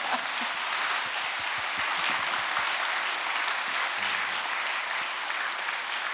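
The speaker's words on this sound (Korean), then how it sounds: "박수 한번 주실까요?" Audience applause at a Christian radio book concert in Busan, a steady wash of many hands clapping at moderate level, with a few sharper claps standing out early and a brief murmur near the end.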